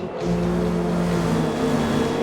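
A Renault Clio race car engine in Forza Motorsport drones steadily at high revs, pushed hard down a straight in a slipstream, with a sustained buzzing whine that slowly shifts in pitch and stays loud throughout.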